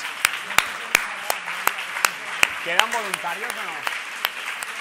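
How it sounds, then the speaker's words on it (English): Sparse, evenly spaced claps ringing out from a small conference audience while someone talks over them. "they also deserve a warm applause"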